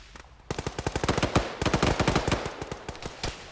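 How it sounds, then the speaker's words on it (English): Rapid bursts of gunfire in the Arma military game, a close, loud run of sharp automatic shots in quick rhythm that continue for several seconds without talk. "Yep, they're gonna keep shooting."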